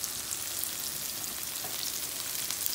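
Okra frying in a pan, heard as a constant bright, hissing sizzle close to the pan, with faint scraping from stirring and no talking.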